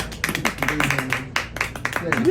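A small audience at a symposium gives a short, scattered round of clapping while a person speaks over it.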